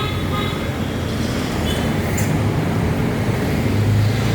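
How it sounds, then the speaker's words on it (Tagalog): Steady low rumble of an LRT light rail train rolling past in the Legarda area, with a constant broadband roar and faint high squeals, loud and close throughout. "Yan pa rin po ang LRT."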